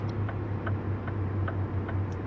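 Hazard lights tick steadily inside a truck cab in American Truck Simulator, evenly spaced clicks about every 0.4 seconds over a constant low engine hum, with no talk.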